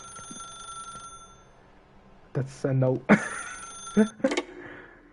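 A telephone rings in the video game The Stanley Parable, a steady electronic ring heard early and fading as a voice talks over it and other game sounds follow.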